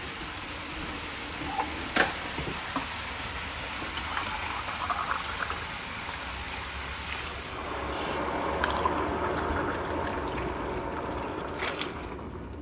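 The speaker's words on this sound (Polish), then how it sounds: "Dam dwie szklanki wody" Two glasses of water run steadily into a soup pot for several seconds, a continuous splashing pour that grows slightly fuller toward the end, with no talking.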